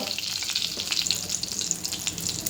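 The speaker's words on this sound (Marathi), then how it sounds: "तेल टाकलं की मोहरी टाकायची आहे हिंग" Mustard seeds and asafoetida crackle and sizzle in hot oil while tempering for a traditional okra dish, a steady close-up frying hiss with fine popping throughout and no voices.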